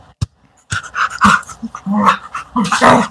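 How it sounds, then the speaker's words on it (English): Small pocket beagle panting and whimpering close by in quick bursts, with people talking over it. "I'm petting her dog."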